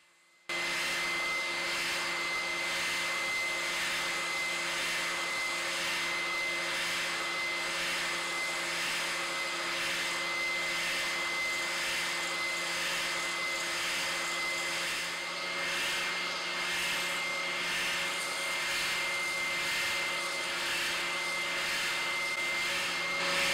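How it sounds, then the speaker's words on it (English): Dremel rotary tool with a diamond grinding bit shaping wine-bottle glass for a guitar slide, a steady high-pitched whine with gritty grinding texture running continuously and close, no speech. "I was going to have to rely on the rubbishy diamond grinding ends for my Dremel"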